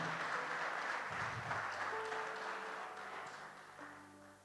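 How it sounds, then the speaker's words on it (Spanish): Congregation in a church applauds, a diffuse wash of clapping fading gradually over a few seconds, with faint sustained organ or keyboard tones underneath. "Dale un aplauso al Señor"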